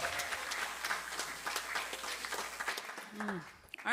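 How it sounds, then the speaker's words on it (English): A congregation applauds after a song at a Sunday service, scattered moderate clapping that tapers off as a voice starts speaking near the end. "Let's give him another round of applause"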